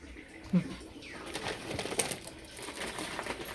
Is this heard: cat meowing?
no